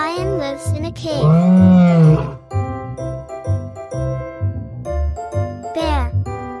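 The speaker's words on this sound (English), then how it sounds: "A lion lives in a cave." A lion roars loudly and briefly over an upbeat children's tune with chimes, in a kids' song naming animals and their homes; the roar dominates for about a second before the music continues.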